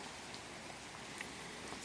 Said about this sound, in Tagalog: At mukhang maghapon tong ulan na to.